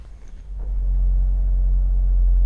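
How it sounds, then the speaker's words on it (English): A Mercedes GLA 35 AMG from 2021 starts up and settles into a loud, deep engine roar that stays steady and close, with nothing else heard. "So you do have the AMG roar."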